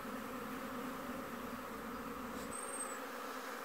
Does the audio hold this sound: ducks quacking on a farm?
no